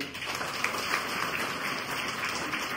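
Audience applause at a Marathi public sermon gathering, a steady, dense wash of many hands clapping that holds evenly throughout at moderate distance, with no voices over it.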